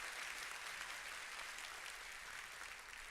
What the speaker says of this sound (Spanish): Yo le doy un aplauso al Señor